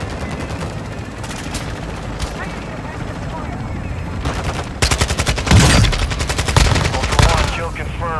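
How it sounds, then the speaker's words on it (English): Bursts of automatic gunfire and single shots in a shooter video game, a steady rattle that grows louder and denser toward the end, with voices talking over it. "Taking effective fire."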